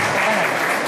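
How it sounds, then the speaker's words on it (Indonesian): A brief, close burst of dense audience clapping at a stand-up comedy open mic, loud and continuous for under a second. "Tepuk tangan buat pembalap Indonesia ini."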